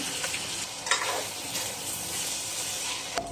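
Meat for pancit fries in a hot pan, giving a dense, steady sizzle close by, with a few sharp clinks of a utensil against the pan.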